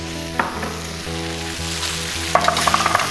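Vegetables for drunken noodles are scooped and stir-fried in a hot pan, a steady sizzle with a few sharp scrapes and clinks of the utensil against the metal, livelier toward the end.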